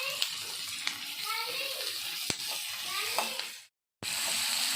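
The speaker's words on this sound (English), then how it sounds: "Fry it till the tomatoes are almost soft." Roughly cut tomatoes fry in a pan with cloves and a piece of cinnamon for paneer tikka masala, giving a continuous close sizzle with a few sharp ticks and a brief dropout near the end.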